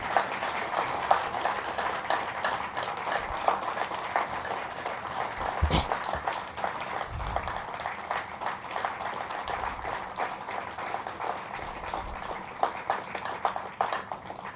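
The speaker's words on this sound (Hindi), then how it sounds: "तालियों की गूंज कम नहीं होनी चाहिए।" Sustained applause from an audience at a book launch ceremony, a steady wash of many hands clapping at moderate volume throughout, with a few low bumps and thuds underneath.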